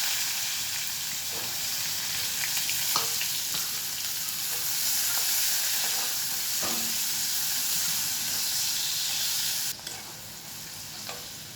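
Chopped onion and ginger frying in a pan with a little sugar, a steady close sizzle with occasional soft scrapes and taps of stirring, no talk.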